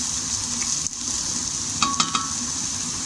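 Onions frying and caramelizing in a pan for a vegetable moussaka sauce, a steady close sizzle with a few sharp stirring clicks near the end.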